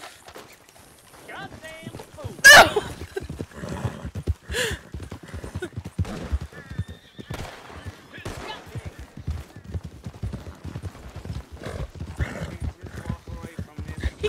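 Red Dead Redemption 2 online horse, rapid clip-clop of hooves running continuously, with a sharp loud neigh early on, brief bursts of other game noise and voices talking over it.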